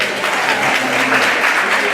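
An audience at an Elks Lodge training session in Napa, California applauds a speaker's introduction, close, steady clapping with a voice talking over it.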